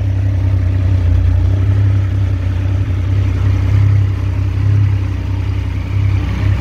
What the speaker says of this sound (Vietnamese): Rồi bây giờ mình nổ máy em nó lên cho mọi người nghe.